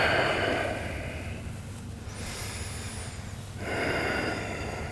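Deep, slow breathing during a yoga session for tight hips: a long audible exhale, a pause, then another breath drawn in, close and unhurried with no talk.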